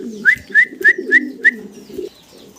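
Fancy pigeons sound off nearby: five evenly spaced, sharp rising notes ride over a low murmuring coo, then fade, with no one talking.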